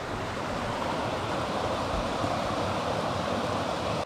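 A creek flows beneath a small footbridge on the Smokemont Loop trail, giving a constant, close broadband rush of water with no breaks.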